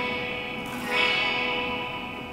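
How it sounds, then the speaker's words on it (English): An electric guitar played through an iRig interface into Amplitube on an iPhone with a chorus effect, sustained shimmering chords with a swelling, wavering tone and a light echo tail. "It's a really good chorus sound."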